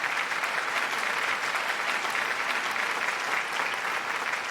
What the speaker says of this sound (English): Give a round of applause, everyone.